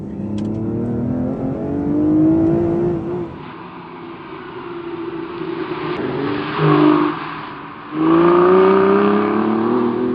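A sports car in sport mode revs hard through a loud exhaust, the engine note climbing, dipping and climbing again over about ten seconds, close and prominent with no talk.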